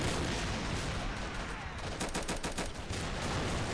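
Heavy gunfire from a war strategy video game, heard as a dense, continuous rattle of rapid shots and bursts over a loud battle din.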